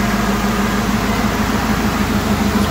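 A Ford engine on a homemade go-kart running at a steady, fairly quiet idle, a close and continuous low hum with no talk over it.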